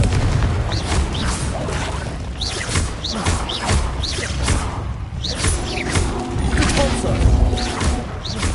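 Confringo blasting spells going off in a wizarding video game, repeated booms and whooshing bursts layered over a dense, continuous wash of game sound.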